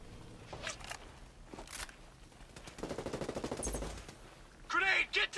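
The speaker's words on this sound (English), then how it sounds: "Hostiles are shooting." Gunfire from hostiles in a video game, a rapid automatic burst in the middle, with scattered sharper shots and a loud blast at the end, mixed with game effects and voices in the background.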